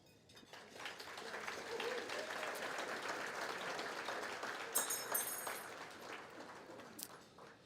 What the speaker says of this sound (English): Please, your applause.